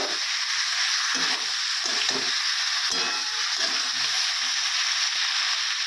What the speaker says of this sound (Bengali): ভেজে রাখা কপি আর আলু দিয়ে দিব। ভালো করে নাড়াচাড়া করে নিব